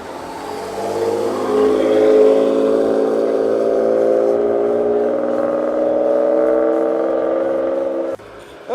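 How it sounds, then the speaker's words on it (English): A BMW accelerates away at a supercar street gathering, its engine note climbing steadily and staying loud for about eight seconds before cutting off abruptly. "Looks like the BMW's taking off."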